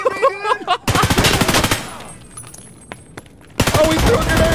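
Rapid automatic gunfire in Escape from Tarkov, loud dense bursts breaking off and returning, with excited players talking over the shooting at the start.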